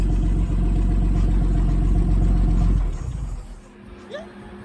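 A 1950 Dodge engine, just started after decades of sitting, idles with a steady low rumble and chug. It drops quieter near the end as faint voices talk nearby.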